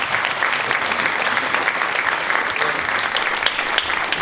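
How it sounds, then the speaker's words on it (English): Sustained audience applause fills the hall at a high school Hall of Fame induction ceremony, dense, even clapping from many hands with no talk over it. "how about a round of applause for Mike Acosta and Viera Pizza"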